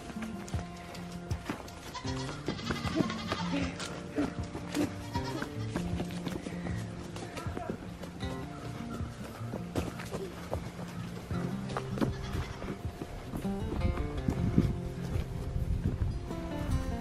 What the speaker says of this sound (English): The first time the goats are going out in the field